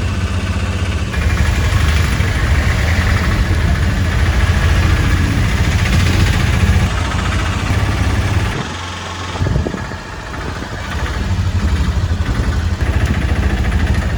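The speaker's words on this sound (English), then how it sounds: "We are on a tuk-tuk with Cyrus here." A tuk-tuk engine drones through a ride in Malindi, Kenya, a loud, continuous rattling putter close by, briefly easing off midway before picking back up, with no speech over it.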